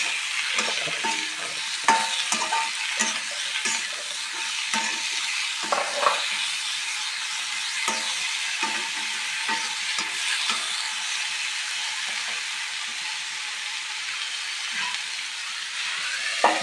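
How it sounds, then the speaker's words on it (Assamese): Food fries in a pan with salt and turmeric powder, a continuous soft sizzle broken by repeated scraping and stirring strokes, close and steady throughout. "আকৌ এইখিনি এতিয়া মই ধুনীয়াকৈ ভাজি লওঁ"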